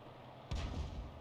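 A single heavy cannon shot from the Pz.Sfl. IVb self-propelled tank gun in a tank video game, a sudden loud boom with a deep rumbling tail that lingers for under a second.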